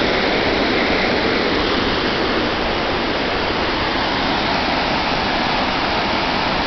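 Water pours steadily over Hungarian Falls, a dense, even rushing roar that fills the whole stretch without pause, close and fairly loud with no voices.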